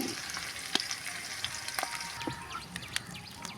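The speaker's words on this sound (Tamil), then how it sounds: "வெங்காயம் நல்லா வதங்கட்டும்." Onions sautéing in hot oil for a chicken biryani, a steady close crackling sizzle with scattered sharp pops and spatters throughout, and no voices.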